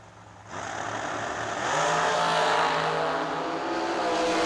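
A drag racing car at a drag strip, its engine roaring in from quiet, building steadily in loudness and holding a strong sustained rumble through to the end, with no talking.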